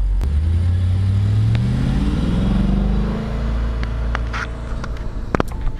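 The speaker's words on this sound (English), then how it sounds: "the RS4 Avant is powered by a large V8 engine with high revving technology" 2014 Audi RS4 Avant with its V8 engine revving, a loud deep engine note that climbs in pitch and then eases off, heard close with a few sharp clicks near the end.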